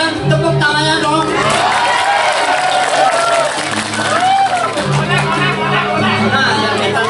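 Applause, cheering and whoops from an audience at a drama gong show, dense and loud crowd noise with excited voices throughout.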